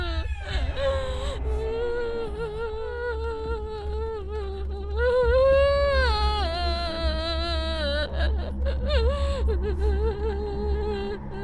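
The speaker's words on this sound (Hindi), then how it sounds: "रोने की आवाज तो सच में आ रही है।" A person sobs and wails for several seconds in a dubbed Hindi film scene, the cries rising and falling in pitch with a steady low hum beneath.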